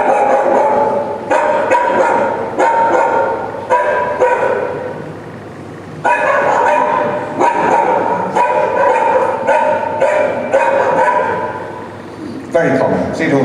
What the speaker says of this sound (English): that dog sees somebody approach the kennel, comes out barking, obviously fearful, worried about my presence there